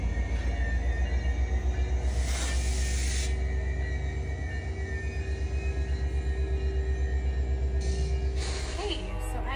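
A train pulls out of the station near Talkeetna, a steady low rumble with rhythmic wheel clatter and hiss that stays loud and continuous throughout, with no talk over it.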